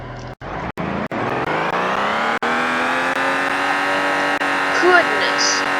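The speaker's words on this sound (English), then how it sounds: "Look at the burnout." A nitrous-equipped V8 car does a burnout, its engine rising in a loud sustained rev after a few sharp cuts, the pitch climbing and holding, with tire squeal close by and a voice underneath.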